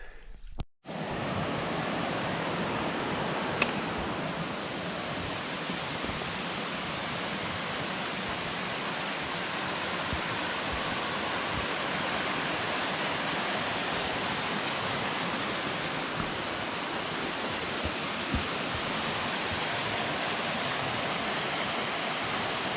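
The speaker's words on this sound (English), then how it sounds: "Round Pond Brook going off." Round Pond Brook runs high and full, its rushing water a loud, steady, close roar that holds unbroken from start to finish, with a brief knock at the very beginning.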